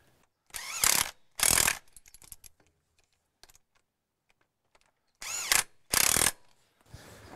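A hand ratchet tightens driveshaft bolts on a Ram 1500 Hemi 4x4, heard as two pairs of short, sharp clicking bursts separated by quiet pauses and faint tool handling.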